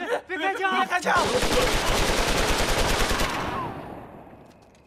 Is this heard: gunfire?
yes